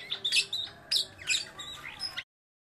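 A Bornean ekek geling, a green magpie, gives a quick run of sharp, high squawks and chirps in several bursts, clear and alone, before cutting off to silence.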